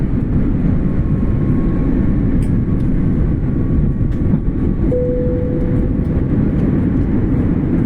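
Airliner landing in Hong Kong, a loud steady roar of engines and rushing air heard from inside the cabin, with a faint high whine holding underneath and a brief tone near the end.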